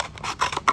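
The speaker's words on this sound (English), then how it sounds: "you're going to cut it in half with your scissors" Scissors snip through a cardboard toilet paper roll, cutting it in half down the middle for a paper mache crayon craft; a few short, close crisp cuts and scrapes with no talking.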